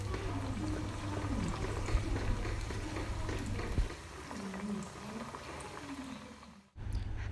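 Onion and momone cook in palm oil in a pan for a Ghanaian kontomire stew, a moderate bubbling sizzle with wet crackles that runs steadily and dips briefly near the end.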